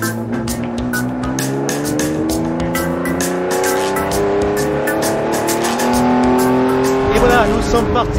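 A Ferrari convertible drives at the 2021 Toulouse auto and motorcycle show, its engine a steady, loud drone that slowly climbs in pitch, with voices talking over it.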